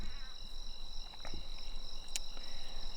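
Frogs call outdoors at night after rain, a continuous shrill, insect-like trilling chorus that stays steady and fairly loud throughout, with a few faint thumps underneath.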